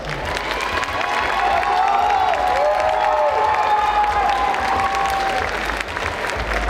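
An audience at a cosplay contest award ceremony claps loudly and continuously, with a dense wash of applause, scattered cheers and a few voices rising above it.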